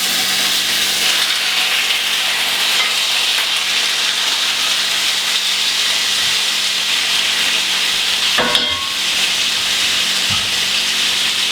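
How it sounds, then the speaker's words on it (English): Meat browning in bacon grease and olive oil for chicken soup, a loud, steady hiss of sizzling fat close up, with a brief clatter of a utensil near the end. "So I am just going to brown up the meat first."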